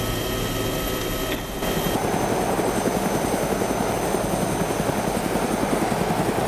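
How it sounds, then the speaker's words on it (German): A helicopter engine in the video game Arma 2 DayZ drones loudly and continuously, with a steady rotor thrum that swells slightly after a brief dip near the start. "Die mit den Heli sollte man vielleicht ein bisschen weiter wegstellen"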